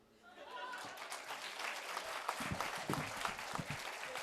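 Applause from a poetry gathering audience, swelling in after a quiet start into a brief burst of scattered clapping, fairly faint, with a voice mixed in.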